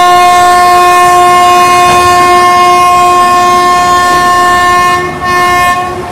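The Karaikal Express 16529 sounds its horn in one long, loud, sustained blast near the track, steady for several seconds over the rolling clatter of the train.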